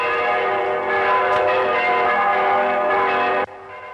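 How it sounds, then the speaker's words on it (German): Church bells ring loudly and continuously in a village setting, overlapping metallic tones sustained throughout before dropping in level near the end. "Jetzt läuten die Glocken auch schon."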